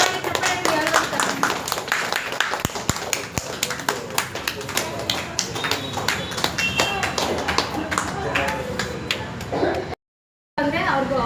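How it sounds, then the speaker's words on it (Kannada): Loud rhythmic hand clapping fills the room as a child with cerebral palsy walks forward, with scattered voices and shuffling underneath and a brief silent gap near the end. "ಜೋರಾಗಿ ಚಪ್ಪಾಳೆ ಹಾಕಿ"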